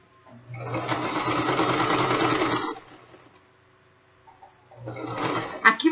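A sewing machine stitching bias binding onto fabric for a mitred corner runs in a close, steady two-second burst, pauses briefly in near quiet, then starts a second short run of stitching.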